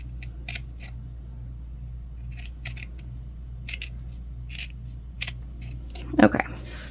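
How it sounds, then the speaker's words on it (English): Scissors snip through fabric while sewing a clutch bag, a few quiet scattered cuts over a steady low room hum, ending in a louder cluster of crisp snips. "we're gonna trim it up anyways"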